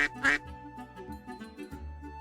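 A duck gives two quick, sharp quacks right at the start, then falls quiet over a soft, sustained musical backdrop.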